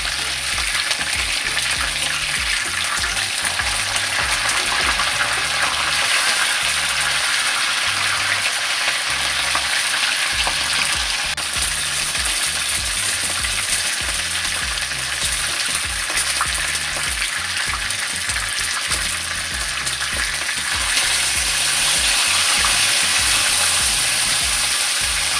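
Chicken pieces fry in a non-stick pot, a loud, steady sizzle and crackle that runs unbroken with occasional stirring and no talk.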